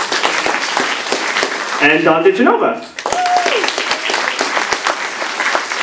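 Audience clapping at a municipal all-candidates meeting in Tweed: dense, steady applause filling the room throughout, with someone speaking over it near the middle as the noise briefly dips.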